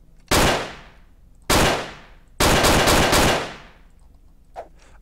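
Gunfire in the top-down action game Hotline Miami: two sharp loud blasts followed by a longer rapid burst of shots, each ringing out and decaying, with a faint clink afterward.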